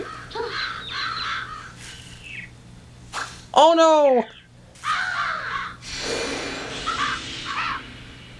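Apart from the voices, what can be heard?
crows cawing in Billy Hatcher and the Giant Egg video game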